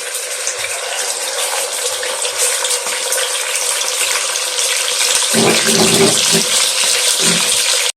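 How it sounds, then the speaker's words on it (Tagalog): Lapu-lapu fish fries in hot oil with a loud, continuous crackling hiss, joined later by low thumps and handling noises. "Piniprito natin yung lapo-lapo mga par."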